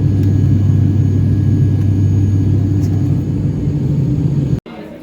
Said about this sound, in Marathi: प्लेन हलवूया.